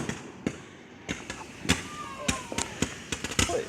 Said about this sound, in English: I'm just going to show you some fireworks.